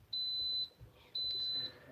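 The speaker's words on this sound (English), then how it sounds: "The cooker will beep 3 times" Two steady high-pitched electronic beeps from an Instant Pot pressure cooker sound in succession, each about half a second long, clear and close against a quiet background.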